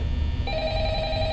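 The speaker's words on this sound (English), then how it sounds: "It's the phone." An old telephone in Five Nights at Freddy's starts ringing partway through, a steady electronic bell tone over a low background hum.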